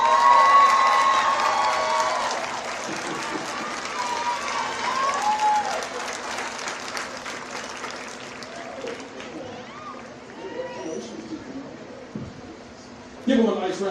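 Audience applause and cheering at a middle school eighth-grade recognition ceremony, loud at first and gradually thinning out, with shouts, whoops and talking voices scattered through the crowd and a brief burst near the end.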